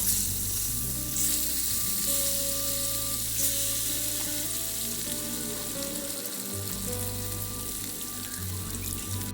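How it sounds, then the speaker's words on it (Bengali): Pieces of rohu carp fry crisply in hot oil, giving a continuous close hiss and crackle that stays even throughout, with faint tonal sounds in the background. "আর এদিকে আবার তেল গরম করে মাছগুলো ভেজে নিচ্ছি মাছগুলো বেশ একটু কড়া করেই ভাজবো"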